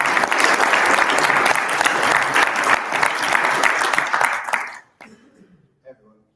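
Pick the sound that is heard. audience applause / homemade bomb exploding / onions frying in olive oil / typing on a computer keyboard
audience applause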